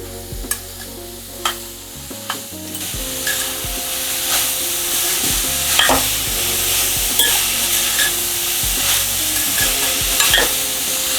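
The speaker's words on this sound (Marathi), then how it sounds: "परतून घ्यायचं हे गाजर या तुपामध्ये साजूक तुपात" Grated carrots stirred and fried in ghee over a full high flame for carrot halwa, a steady close sizzle with scraping spoon strokes and occasional sharp knocks against the pan.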